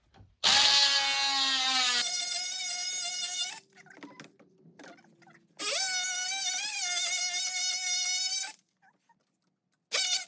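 Power tool cutting aluminum parts off a vintage sled: two long, loud, sustained whining bursts with steady harmonic pitch, a gap of scattered clanks and handling noise between them, then a brief final burst at the end.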